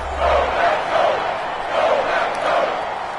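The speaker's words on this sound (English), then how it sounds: "the crowd getting into it as we come up on a big third down" A stadium crowd in an EA Sports football video game roars steadily with swelling cheers ahead of a big third down, a dense continuous wash of many voices.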